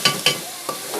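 Pumpkin halwa roasting in a pan, with a few distinct scraping stirs of a spoon against the pan over a soft, steady sizzle, close and moderately loud.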